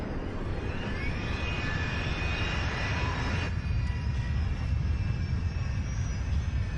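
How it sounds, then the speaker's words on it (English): A steady, loud jet airliner engine starting up, a Rolls-Royce engine roar with a deep rumble, running continuously without pause; the tone shifts slightly partway through. "engine number 4 roars to life"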